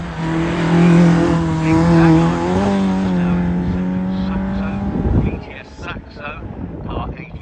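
A race car at the Harewood hillclimb roars past close by, its engine note holding high and then dropping as it goes away, with wind buffeting the microphone and a commentator talking afterward.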